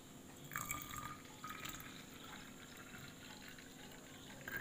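Cold milk poured into a homemade shaken Boost drink, a quiet, steady liquid trickle and splash that runs briefly, close by and faint, with no talk.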